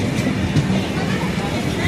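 A weekly passenger express train in Tamil Nadu runs along the rails with a loud, steady rumble and faint rhythmic clatter, heard from close by.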